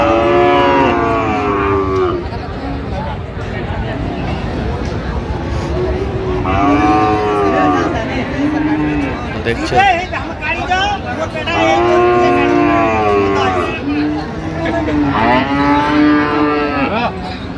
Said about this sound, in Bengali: দেখছিলাম এখানে বেশ সুন্দর গরুগুলো কালেকশন করছে সাহেব আলী ভাই